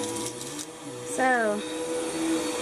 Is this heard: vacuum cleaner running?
yes